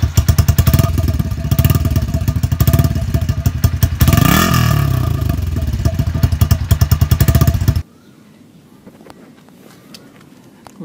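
Yamaha LC135 V3 motorcycle fitted with an ABM exhaust revving loudly up close, with a rapid throbbing exhaust pulse and a swelling rev midway, then cutting to quiet background noise.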